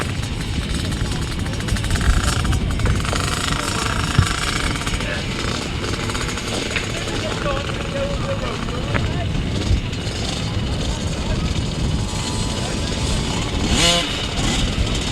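Youth cadet motorcycles roar off the line together at a grasstrack race, a dense, sustained engine drone with revving peaks under crowd noise and a commentator's voice.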